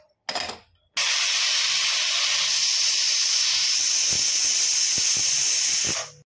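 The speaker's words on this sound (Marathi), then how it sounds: "आपण आता कुकरचं झाकण लावून घेणार आहोत आणि 3 शिट्ट्या काढणार आहोत।" A pressure cooker on the stove, cooking moong dal khichdi with rice, lets out a short burst and then a long, loud, steady hiss of escaping steam. The hiss lasts about five seconds before fading out.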